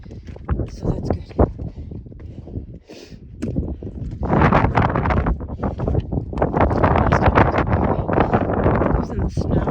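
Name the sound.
strong wind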